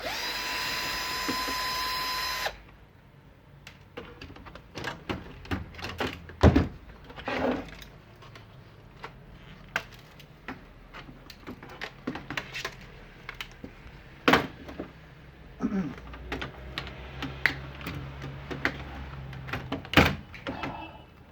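Screws come out of a satellite receiver being taken apart for scrap, giving irregular close clicks, scrapes and knocks of metal parts and a screwdriver on the casing across a long stretch with no speech.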